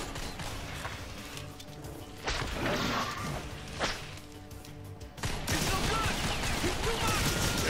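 Gunfire in the first-person shooter The Darkness, scattered sharp shots and thuds amid game combat noise, growing denser toward the end, with a voice speaking at times.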